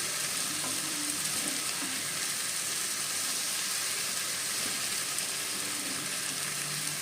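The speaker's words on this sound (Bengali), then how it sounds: "তার আগে আমি একটুখানি নেড়ে নাড়াচাড়া করে নিচ্ছি" Lentil dumplings fry in a pan for an ash gourd dish, giving a dense, steady sizzle throughout, close and even, with faint stirring beneath it and no voices.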